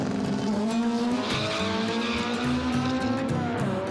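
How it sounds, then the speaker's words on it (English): A race car is driven hard at full speed, its engine roaring loud and close with steady harmonic whine and shifting pitch, tires squealing intermittently, the sound continuous with no talk. "You're in a car going as fast as you can."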